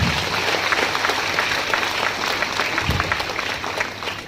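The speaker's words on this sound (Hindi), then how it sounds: "इनके लिए एक बार जोरदार ताली बजा दीजिए" An audience at a training program in Bongaigaon breaks into loud applause on request, a dense sustained clapping that fills the room from start to end.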